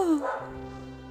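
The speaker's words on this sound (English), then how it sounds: "My dog is mad." A dog gives a short, high yelping bark that slides down in pitch, followed by a fainter whimpering whine, close by and fairly loud with no talk.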